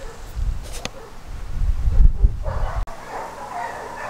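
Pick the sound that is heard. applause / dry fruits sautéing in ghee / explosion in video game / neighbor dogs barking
neighbor dogs barking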